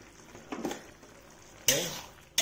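An egg drops into a hot pan with potatoes, setting off a sudden loud sizzle that fades quickly, after a brief clink of utensils, with another short burst at the end.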